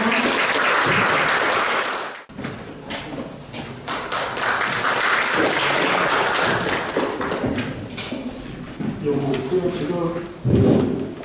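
A seminar audience at a Chungbuk policy vision event claps to welcome the next speaker, sustained applause filling the room with a few knocks and thuds, then a brief stop and a microphone noise near the end.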